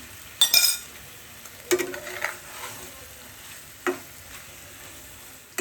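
Prawns with a little chili powder going into a malai curry pan give off a sizzle with a few sharp stirring and clinking bursts, then a quieter simmering background.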